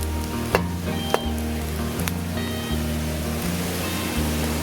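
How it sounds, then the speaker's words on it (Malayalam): Onion and garlic frying in a pan outdoors, giving a loud, steady sizzle throughout with a few sharp utensil taps against the pan. "ഇനി അടുത്തായിട്ട് നമുക്ക് ഇതിലേക്ക് വെളുത്തുള്ളി ഇടാം."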